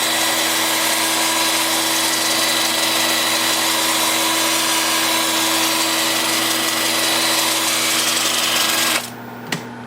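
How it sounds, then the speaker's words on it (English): A wood lathe runs in reverse at about 350 RPM with a steady, loud mechanical hum and whine that holds unbroken for nine seconds, then cuts off into near quiet with one faint knock. "with its lathe spinning in reverse at about 350 RPM"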